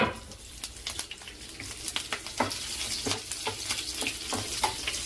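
Slit green chillies crackle and sizzle in hot oil in a pan while being fried for dal. The close, steady frying hiss is punctuated by sharp pops and spits. There are no voices.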